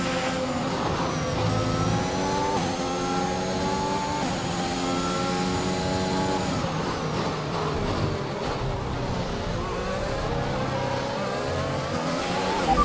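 F1 race car engine overtaking in the video game F1 2021, a loud high-pitched engine whine rising and shifting through gears as another car's engine passes close by, with no talking.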